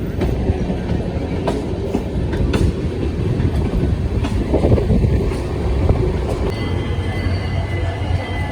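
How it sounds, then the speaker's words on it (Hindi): The Howrah Bikaner Weekly SF Express rolls into platform 2 at Bareilly station, wheels clacking steadily over rail joints with occasional squeals, loud and close, while faint voices murmur in the background. "2 नंबर प्लेटफॉर्म पे अराइविंग करती हुई बरेली के 1215 किलोमीटर का डिस्टेंस कवर करने के बाद हमारी ट्रेन पहुंच गई है"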